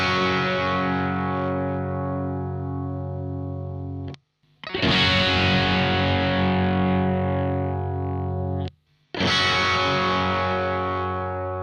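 A heavily distorted electric guitar through a Soldano SLO 100 amp or a Kemper Profiler, playing three long sustained chords, each struck hard and left to ring, cut by two brief silences, loud and alone without talking.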